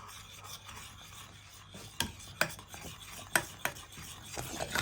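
A spoon scraping and stirring a thick Egyptian malban mixture of sugar, lemon juice and vanilla in a pot, soft rasping strokes with a few sharper knocks against the pot, quiet and without talk.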